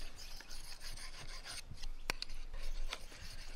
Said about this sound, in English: polish the edge with this side of the stone in exactly the same way